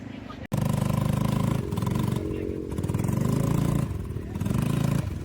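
A motorcycle engine runs close by at a beach, with a steady throbbing idle that rises and falls in revs. A brief dropout comes early, and a voice can be heard faintly now and then.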